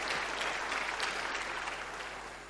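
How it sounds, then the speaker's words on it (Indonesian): A church congregation claps in sustained, dense applause, steady and full throughout with no voices on top. "Tepuk tangan yang paling meriah buat Tuhan kita."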